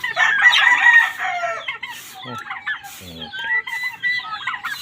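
A Texas gamefowl rooster crows loudly and close by, followed by more clucking and shorter calls from the fowl.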